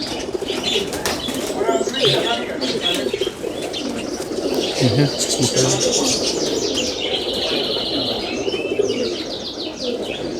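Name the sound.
pigeons cooing and flapping wings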